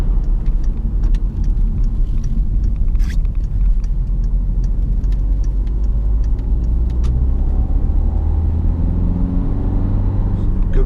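Peugeot 3008 1.6 e-HDi diesel SUV driving over a fairly bumpy road, a steady loud low rumble of engine and road noise with occasional knocks and rattles throughout, no one speaking.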